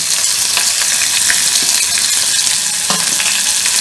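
Onions and green chillies sauté in a hot pan for a green field bean kuruma, giving a loud, steady sizzle and crackle of frying throughout, with a few scrapes of stirring and no voices.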